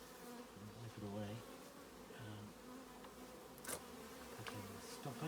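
Honey bees buzz steadily around an open hive as honey is wiped away, a dense, continuous drone with individual insects swelling louder as they pass close by.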